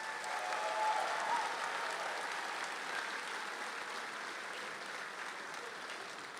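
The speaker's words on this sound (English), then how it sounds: "A round of applause for our musicians," Sustained audience applause for the musicians at an evening commencement ceremony, broad and steady from a large crowd, fading slightly toward the end.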